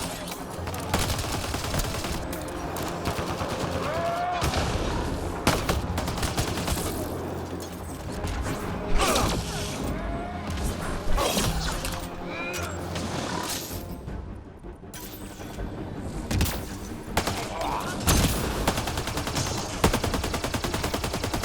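Dense gunfire from the video game Mass Effect: Andromeda, with rapid bursts, mechanical weapon clatter and impacts layered over game sound, with some voices in the mix.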